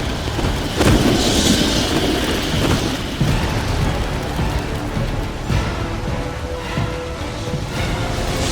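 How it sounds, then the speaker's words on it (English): A severe winter storm in Batman: Arkham Origins roars loud and close, with heavy rain hissing on surfaces and deep rumbles of thunder rolling throughout, with no voices. "urging Gotham residents to stay off the roads and in their homes tonight in light of the severe winter storm warning"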